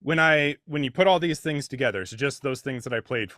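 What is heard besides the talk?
None of the usual background noises is heard.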